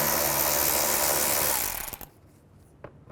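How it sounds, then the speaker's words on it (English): A power tool drives a T20 socket, backing screws out on a 2013-15 Chevy Cruze for headlight removal, whirring loud and steady for about two seconds before stopping, with a couple of faint clicks afterward. "I'm going to use a T20 socket to remove them."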